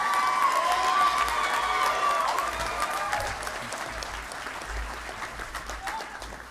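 A large audience at a veterinary and biomedical sciences commencement applauds graduates, with loud sustained clapping and some cheers that slowly taper off, while a few voices and tones ring out early.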